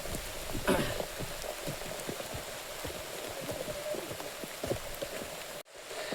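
Steady rain falling at Avchitgad fort in Raigad, a dense continuous patter of drops on surfaces with scattered nearer splashes, ending abruptly.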